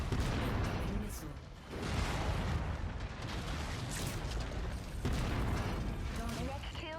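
Heavy booming blasts from an incoming missile striking in a mech combat game, loud and continuous with rumbling impacts across the whole stretch, a sharp new burst near the end, and a voice talking over the battle noise.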